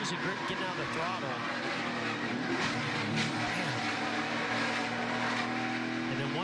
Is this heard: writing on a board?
no